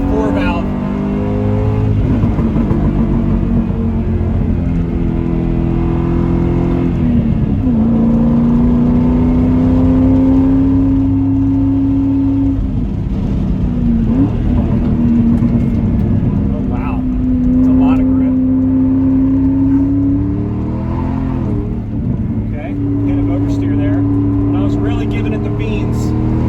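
A car with a 4-valve engine drives with a steady, loud engine drone that rises and falls in pitch through the gears, heard close from inside the cabin while someone talks over it.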